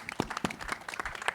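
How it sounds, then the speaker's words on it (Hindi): Audience at a film trailer launch event gives a short burst of scattered clapping, faint and distant, lasting only a moment. "एक बार जोरदार तालियां"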